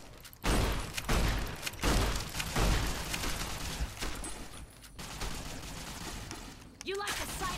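Rapid bursts of weapon fire from enemies carrying laser weapons in a post-apocalyptic desert role-playing game, loud repeated volleys with sharp cracks and a steady background roar, someone speaking briefly over the shooting.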